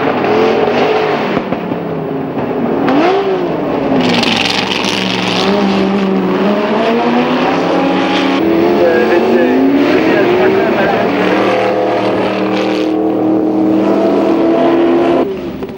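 AC Cobra and Ferrari 250 GTO race cars at a 1989 historic Grand Prix, engines roaring and rising through the gears as they battle for position, loud and continuous with a French commentary voice running over them.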